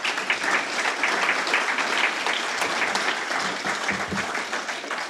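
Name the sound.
applause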